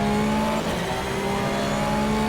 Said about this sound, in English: Hear the engine sound, which is pretty nice in my opinion.